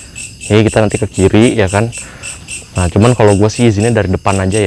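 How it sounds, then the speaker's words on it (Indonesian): Crickets chirp steadily in the background of an overgrown garden plot near an abandoned old house, a thin continuous high trill running beneath someone talking loudly and close throughout. "Ada jangkrik."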